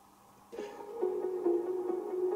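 A synth plug-in sound plays in the background of a trance track, a soft repeating tonal figure entering after a brief quiet start, fairly faint with gentle pulses and no voices.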